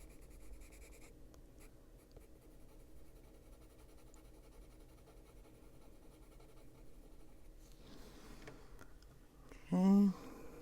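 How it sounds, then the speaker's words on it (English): A Luminance colored pencil lightly shades over drawn lines on paper while a bird is being drawn, giving a faint, steady, close scratching that continues throughout, with a brief louder sound near the end. "darken up just by lightly going over all our little pencil lines here."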